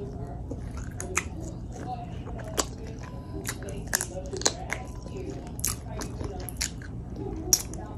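Close, loud wet smacking and chewing while eating Wingstop chicken wings, with sharp crunchy bites popping out above a steady low background over several seconds.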